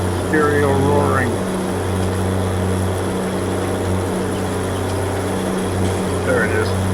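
A pair of tractor engines in a farming game roar next to each other, a loud continuous low rumble with steady tonal hum that holds for the whole stretch, a voice speaking briefly over it.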